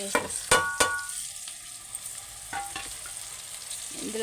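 Fried okra stirred in a pan during Telangana-style okra fry, a soft ongoing sizzle broken by a few sharp spoon knocks and scrapes against the pan, no speech.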